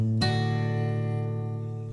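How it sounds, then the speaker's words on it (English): A single guitar ending strum from a song in Rock Band rings out and slowly fades, a full chord sustaining close and clear with no voices. "the ending strum was re-added"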